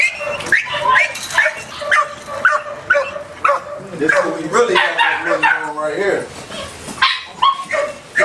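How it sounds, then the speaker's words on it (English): Several puppies at a dog fighting operation in Detroit bark, yip and whimper in short, overlapping bursts close by, while someone talks loudly over them throughout. "Some more puppies over this here."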